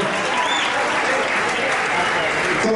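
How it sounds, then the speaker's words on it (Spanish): A large crowd claps loudly for a saxophonist at a live band show in Actopan, Hidalgo, the applause dense and continuous throughout, with a few crowd voices faintly mixed in. "den un aplauso"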